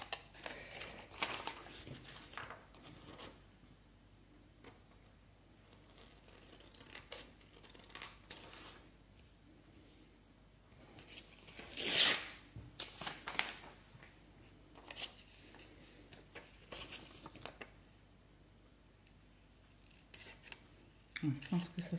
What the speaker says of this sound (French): Donc là je vais découper ma petite photo